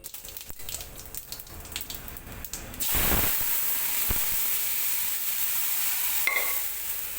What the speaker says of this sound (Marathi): तर आता चांगला तडका दिला जिऱ्याचा मस्तपैकी